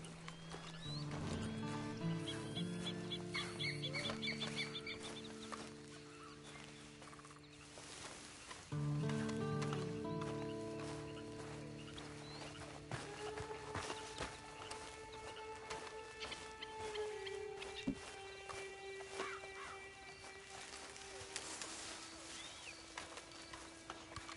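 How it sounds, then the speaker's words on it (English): Horse hooves walking in the video game Red Dead Redemption 2 Online: quiet, scattered clip-clop steps under soft game music and outdoor ambience, with an occasional snort. "And you better get on this horse."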